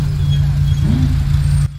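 A Porsche 914 drives past during the Tour Auto 2020 historic car rally, a brief, moderately close engine swell rising over a steady low rumble of background road noise.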